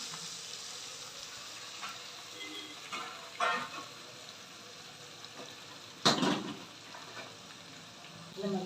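Onions fry for biryani in a pan with a soft, steady sizzle, broken by a couple of brief clattering stirs, heard quietly and close up.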